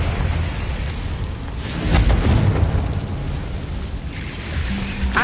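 Confringo blasting spell going off in Hogwarts Legacy, a loud, close, rumbling explosion that swells in the middle and trails into a long roaring decay, heard alone without talk.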